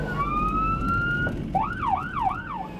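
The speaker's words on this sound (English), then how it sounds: "Here we go. Sirens." A siren wails steadily, then switches to a rapid up-and-down yelp, loud and close over rumbling traffic noise.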